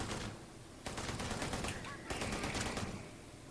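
Rapid automatic gunfire in the space game Starfield, two loud sustained bursts with a short pause between, fading at the end.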